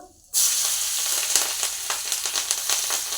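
Green chillies drop into hot oil with black cumin in a kadai, bursting into a loud, close sizzle that stays steady with crackly spits and light stirring throughout.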